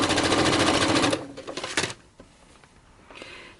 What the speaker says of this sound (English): you can totally just chain stitch them